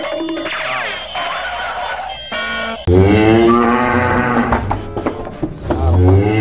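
A cow moos loudly several times, long drawn-out lowing calls close by, with a brief clatter partway through.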